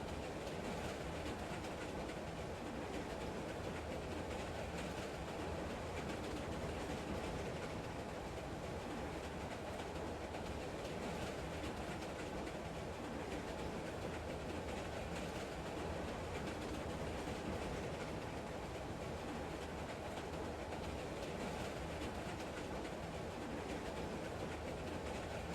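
A train rolls along the rails with a constant rumble and steady clickety-clack, loud and unbroken throughout, with no voices.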